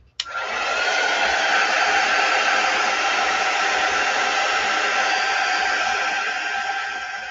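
A hair dryer blows on a felt craft project, starting with a sharp click and then running as a steady, loud, even whoosh for several seconds with no talking.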